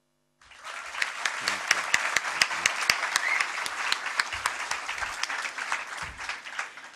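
A literary festival audience breaks into applause after a speaker introduces an author, the clapping starting abruptly, swelling into a dense crowd sound with sharp individual claps standing out, then gradually tapering.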